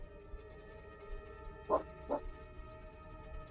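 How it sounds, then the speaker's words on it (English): A dog gives two short barks, spaced about half a second apart and set somewhat back in a quiet room over a faint steady hum. "Oof. Dog."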